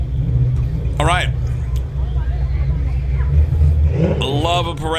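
A Ford Mustang rolls past during a Christmas parade, its engine rumbling steadily under crowd chatter and a voice speaking nearby, with brief bursts of noise over the low drone.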